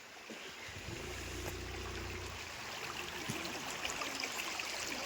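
A small waterfall flowing in a jungle gives a soft, steady rush of trickling water, fairly faint and continuous, with a low engine-like hum briefly underneath near the start.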